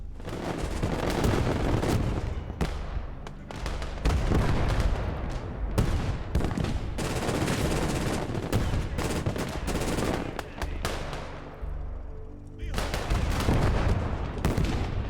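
A 20 ITK anti-aircraft gun in Gates of Hell on the Black Sea shores fires long, rapid, thudding bursts, loud and near, broken by brief pauses and continuing through the stretch.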